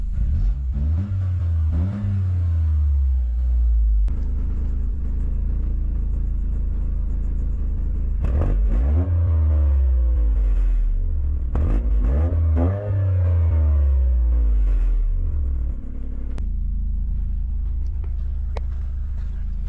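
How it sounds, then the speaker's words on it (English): A 2024 Toyota GR Corolla engine is revved from outside the car: several loud, close blips that climb and fall back to a steady low idle rumble between them. "give it some revs so you could hear how she sounds"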